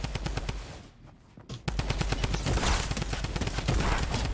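Rapid Tommy gun fire in the video game Fortnite, loud dense automatic bursts that pause briefly before resuming in a sustained, heavy barrage.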